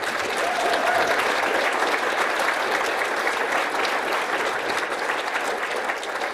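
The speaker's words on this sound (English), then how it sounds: "So a big round of applause for our community donors." An audience at a school awards ceremony claps in a dense, sustained round of applause for community donors, loud and even from start to finish with no talking.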